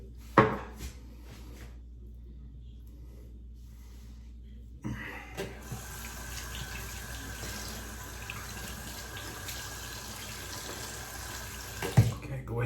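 Water runs from a bathroom tap to wet a razor for shaving, a steady hiss starting midway and continuing to the end, with a couple of sharp knocks near the start and at the close.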